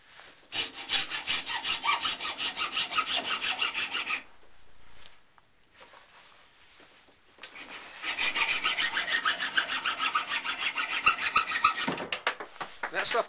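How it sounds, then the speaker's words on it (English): A hacksaw cuts through 5/16 inch brass pins with quick rhythmic back-and-forth strokes, close and clear, in two bursts separated by a few quiet seconds. "that stuff cuts pretty easy with a hacksaw"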